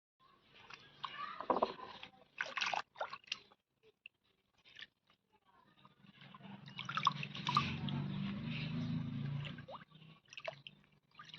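Taro leaves being washed by hand in a large tub of water, with intermittent drips, splashes and wet squishing, quiet at first and then a steadier sloshing swirl of water.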